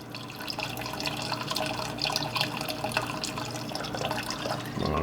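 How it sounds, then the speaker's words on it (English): Morgan's rum poured into a honey-and-mango glaze for ribs, a steady close trickle and splash of liquid running for several seconds with no talking. "we're going to add 3 ounces of Morgan's rum."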